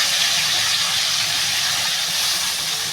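Broth poured over cucumber frying in hot oil, a loud, steady sizzling hiss that holds without a break, close and with no voices.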